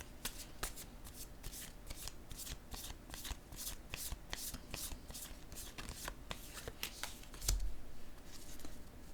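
Tarot-style cards shuffled by hand at the start of a reading, a rapid run of crisp riffling flicks repeating steadily and close, with a soft thump near the end and no talking.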